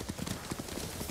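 Horse hooves clip-clop at a steady walking pace in the samurai game Ghost of Tsushima, a soft, even rhythm of repeated muffled hoofbeats on open terrain.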